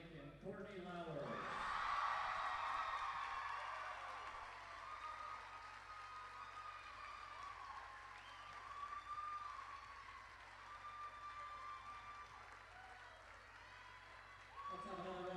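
A crowd at a women's college volleyball championship match applauds the conference player of the year: steady, moderately distant clapping that peaks early and lingers, with some cheering and a public-address voice heard through the hall.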